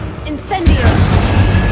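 After a brief quieter moment, an Incendio fire spell from Hogwarts Legacy erupts into a sudden, loud burst of roaring flame that keeps rumbling steadily to the end.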